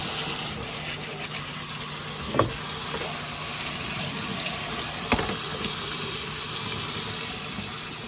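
Cold tap water runs steadily into a sink to shock freshly cooked homemade spaghetti, a continuous hiss and splash with a couple of faint clunks.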